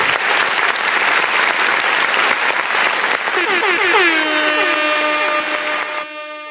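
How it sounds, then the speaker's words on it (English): A round of applause rings out as dense, steady clapping that fills the first few seconds, then fades under a sustained tonal music sting that cuts off abruptly near the end. "I'm gonna give him a round of applause."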